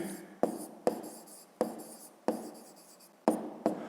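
A pen writes by hand on paper during a fifth-grade maths exercise about angles. Six quick, close strokes scratch in an uneven rhythm, each one starting with a sharp tap and fading out, with no talk.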